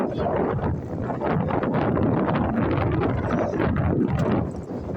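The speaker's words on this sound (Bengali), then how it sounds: "এটা কি বাতাস মা।" Strong, steady wind blows outdoors, roaring and buffeting close to the microphone without pause for the whole stretch, dipping slightly at the very end.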